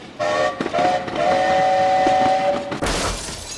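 A train sound effect: a sustained, layered horn blast holds for over two seconds above a rumbling rail bed, then cuts to a loud rushing burst as the train roars past up close.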